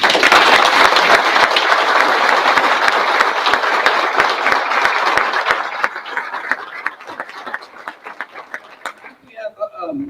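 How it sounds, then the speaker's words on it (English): Audience applauding family members standing at a governor's ceremony, dense loud clapping that thins out after about six seconds into scattered claps and then a few voices. "Have a round of applause"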